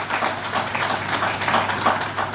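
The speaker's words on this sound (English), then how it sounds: "I want a big round of applause for them." An audience at a national seminar on new criminal law gives a round of applause for students; loud, continuous, even clapping throughout, with no voices over it.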